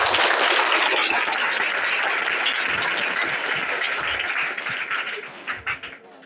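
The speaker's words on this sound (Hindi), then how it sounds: "आप लोग तालियां बजाइए।" An audience claps steadily at a school prize ceremony at Vidya Bharti Shikshan Sansthan, Azamgarh, a dense sustained applause that thins out and tails off into scattered claps near the end.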